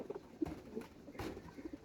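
Soft, low pigeon coos repeat a few times, quiet and close, over a faint background hiss.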